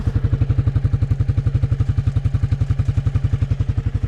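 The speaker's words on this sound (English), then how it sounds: "Let's get an idea of the exhaust sound." A Can-Am Outlander 500 ATV's big single-cylinder engine idles through its exhaust with a steady, rapid, even thumping pulse, loud and close, with no voices over it.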